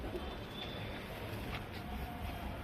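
A male Jacobin pigeon coos softly in a noisy setting, with low, faint coos set against a constant background rumble.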